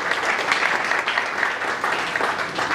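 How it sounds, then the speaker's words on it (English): Brief burst of steady, fairly close applause from an audience in a room at a campaign launch event, with dense clapping throughout. "A round of applause to each one of you in the room."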